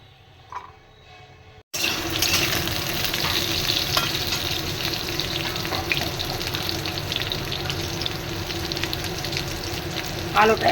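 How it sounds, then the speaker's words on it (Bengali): Potatoes fry in oil in a pan with a loud, steady sizzle that bursts in after a brief quiet start, with occasional stirring clicks throughout. "আলুটা একটু ভাজা ভাজা হয়ে এসেছে দেখুন।"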